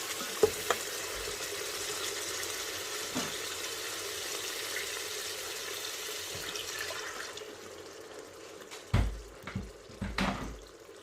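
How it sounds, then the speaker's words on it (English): Food sticking to the bottom of an Instant Pot pressure cooker sizzles softly after a splash of water, fading over several seconds, followed by a few scraping stirs and knocks near the end. "And then just continue to stir this."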